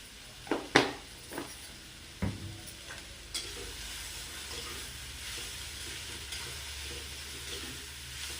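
Beetroot bhaji stirred in a pan: a few sharp spoon knocks and scrapes at the start, then a steady soft sizzle and hiss that runs on alone.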